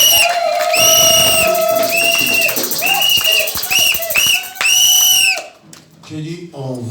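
A church congregation cheers and acclaims Jesus Christ with loud, sustained, ringing shouts and cries that swell together. Near the end the cheering breaks off into lower, scattered voices.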